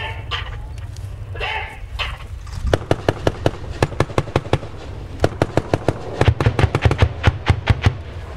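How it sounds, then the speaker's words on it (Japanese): Live-fire demonstration at the Fuji Firepower Review, with a rapid string of sharp gun reports cracking out over a murmur of outdoor crowd noise, the shots picking up pace and continuing in bursts. "それでは射撃をご覧いただきます。"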